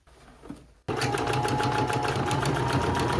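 Sewing machine stitching continuously over a stretched elastic waistband on side-tie pants, starting abruptly after a brief quiet moment and running steady, close and loud to the end.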